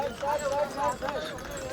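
Horses walk along the Amarnath Cave trek trail carrying riders and bags, their hooves clip-clopping in a steady, fairly close rhythm beneath loud continuous talk.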